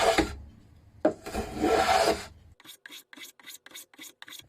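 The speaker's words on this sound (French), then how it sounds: "alors je vais raboter comme ça" A hand plane shaves a wooden box lid along the grain: two long rasping strokes, then a quick series of shorter, evenly spaced scraping strokes, close up.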